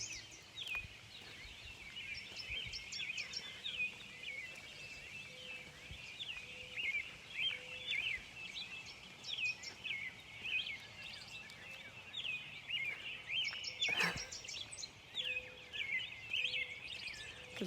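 Many birds chirp and trill steadily throughout, a dense outdoor morning chorus on a street, with a neighbor's garden waterfall and an owl somewhere in the mix, over a soft hiss of background ambience.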